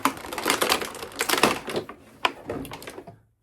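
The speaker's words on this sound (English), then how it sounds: "hate the sound of caving in plastic" Small plastic toy parts clatter and click together in quick irregular bursts of snaps and rattles, close up, before falling quiet at the end.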